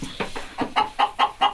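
Hens clucking inside a poultry house, a run of about seven short, rhythmic clucks, close and moderately loud, with no talking over them.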